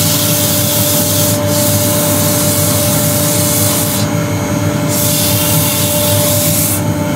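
Maple scrap-wood bowl spinning on a wood lathe while sandpaper is held against it, giving a loud, continuous abrasive hiss over the steady hum of the motor, with no speech.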